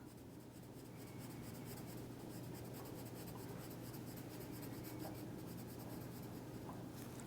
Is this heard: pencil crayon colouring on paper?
yes